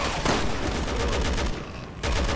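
Gunfire in the video game Resident Evil 6, a rapid burst of loud, close shots with a brief gap before the firing resumes.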